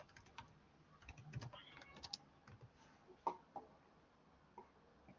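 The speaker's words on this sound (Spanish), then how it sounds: "La energía se va a solicitar también por el teclado." Quiet typing on a computer keyboard: scattered soft key clicks in irregular bursts, some louder taps standing out, faint and close in a still room.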